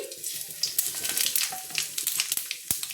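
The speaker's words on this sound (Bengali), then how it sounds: "তো এই দেখুন আমি এবার এই ফোড়নটা সব দিয়ে দিচ্ছি।" Black mustard seeds, cumin, fenugreek and dry red chillies sizzle and crackle in hot oil, a continuous frying hiss dotted with sharp popping seeds and one louder crack, close and fairly quiet, with no talk.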